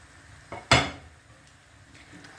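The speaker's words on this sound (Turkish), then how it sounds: "Hazırlamış olduğumuz gül tatlılarını şerbetin içerisine bırakıyoruz." Rose-shaped pumpkin desserts dropped into syrup in a pot, giving a brief soft knock and then one sharper clatter of pieces against the pot, with a quiet kitchen background.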